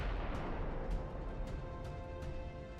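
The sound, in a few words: naval gunfire from Ultimate Admiral Dreadnoughts video game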